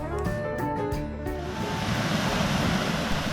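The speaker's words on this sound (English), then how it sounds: "here's the main reason I booked this campsite, because of the waterfall, and it turned out to be only 2 feet tall" A small waterfall only two feet tall at a campsite in Magnolia Springs State Park, Georgia, gives a continuous loud rush of falling water, close by and unbroken, with no voices.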